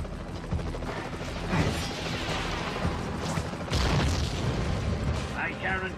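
Bombs exploding in the Spider-Man 3 PS2 video game during a boss fight against a mad bomber, with repeated loud booming blasts and clattering mechanical noise over several seconds.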